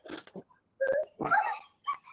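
A dog whimpers in a short series of high, thin whines and soft yips, close by and fairly quiet, with brief pauses between the cries.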